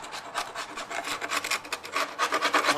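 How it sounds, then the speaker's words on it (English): A dried, flaky burl on a wooden log is scraped clean by hand, giving a steady run of close, raspy scraping strokes in uneven bursts with no voices. "We just want to take a minute to scrape a lot of this out, because we don't want to leave this burl."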